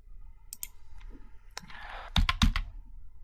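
Two quick, sharp keypresses on a computer keyboard while deleting a cell in a Jupyter notebook, following a few fainter scattered clicks; close and clear with no talking.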